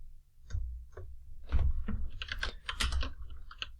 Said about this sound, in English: let's type out what that is for